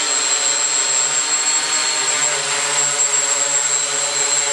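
A small drone hovers low to the ground indoors in an office, giving a steady, loud, close propeller whine with a constant high tone that holds evenly throughout.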